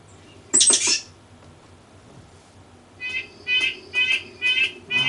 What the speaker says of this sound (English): Now, the red-breasted nuthatch. This is a small bird, but boy, does it have a big sound.